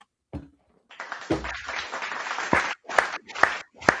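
Small podcast group clapping briefly in a room, a few scattered bursts of hand claps with short pauses between, close and fairly quiet, with a voice heard at the start.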